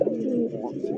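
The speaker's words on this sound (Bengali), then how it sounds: "এই মুহূর্তে দেখতে পাচ্ছেন টকটকা লাল কালারের বেজিয়াম একজোড়া মুখী কবুতর" A pair of deep red Mukhi pigeons coo softly in a brief, close, low rolling call with no other sounds.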